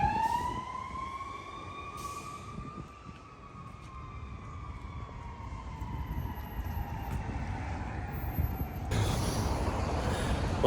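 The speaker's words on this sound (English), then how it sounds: "Back out into the rain and the cold and the sirens." Emergency vehicle sirens wail in a slow rising and falling tone on a cold, rainy street, loud and fairly near, with a constant wash of rain and traffic noise underneath.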